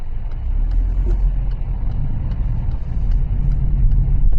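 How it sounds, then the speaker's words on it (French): A car approaching in road traffic during a driving-school lesson in Reims, heard as a loud continuous engine and tyre rumble from inside a vehicle, steady throughout with faint ticking clicks above and no talk. "Attention, il y a une voiture qui arrive, va plus vite qu'elle."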